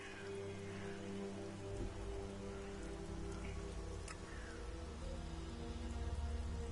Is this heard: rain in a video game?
yes